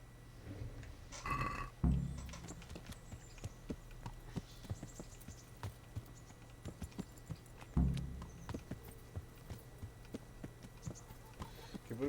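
Horse hooves clip-clop at a steady walking pace in a medieval role-playing game, quiet and evenly spaced, with two louder thumps of tack or saddle along the way and no voices.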